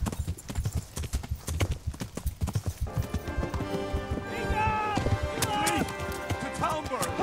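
Rapid galloping hoofbeats pound steadily, close and loud, joined midway by a neighing horse and swelling musical tones, from the video game Kingdom Come: Deliverance.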